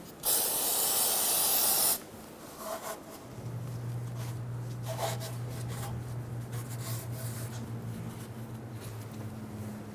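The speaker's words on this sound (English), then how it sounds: "We're going to use some brake parts cleaner to clean off any of the old fluid on our pan" Brake parts cleaner sprays in one loud, steady two-second hissing burst onto the transmission pan of a 2000-2007 Ford Focus, then gives way to quieter rubbing and a low steady hum.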